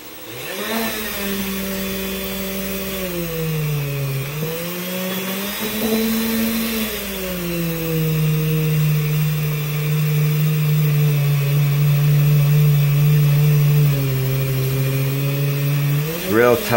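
A buffing wheel loaded with polishing compound whines against vintage Corbin brass hardware, its pitch dipping and rising as pressure changes, a loud continuous motor drone over about seventeen seconds with no talk.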